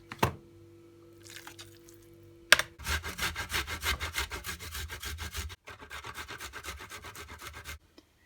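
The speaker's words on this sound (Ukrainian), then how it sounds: "а цибулю та чесник я окремо натру на терці" Onion and garlic being grated on a hand grater, a steady run of rhythmic rasping strokes, close and fairly quiet, with a brief pause partway through before the scraping resumes.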